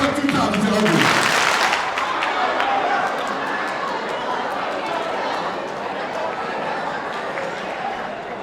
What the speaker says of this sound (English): Clap once if you hear me. Clap twice if you hear me.